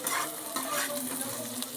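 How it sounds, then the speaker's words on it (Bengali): Potatoes fry in a pan: a short burst of dense, steady sizzling heard up close, with faint stirring and no voices. "এবার আলুগুলোকে আমি ভেজে নিচ্ছি"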